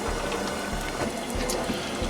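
Maple sap boiling in a backyard evaporator pan, a constant rolling bubbling hiss at close range with low rumbling pulses underneath and no talk.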